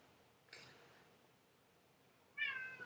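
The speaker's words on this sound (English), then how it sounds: "I'm sorry if you can hear that cat." An indoor cat meows twice, faint and short at first, then a clearer, longer meow, set against quiet room background.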